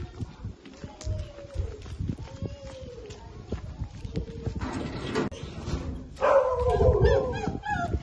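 Dogs at a boarding kennel at a vet clinic in Kampala bark and whimper in excited, overlapping bursts, close and fairly loud amid background clatter, with some people talking.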